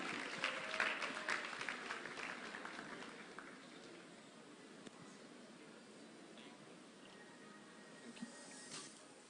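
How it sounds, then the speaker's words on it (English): Audience applause at a business and career expo, a dense wash of clapping that is loudest at the start and then thins into a steadier, softer patter. "Please put your hands together for him"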